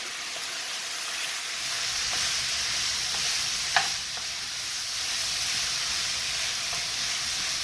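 Zucchini keto dish with dried parsley being stirred in a hot pan, a steady sizzle and soft scraping throughout with one sharp clink of the utensil midway.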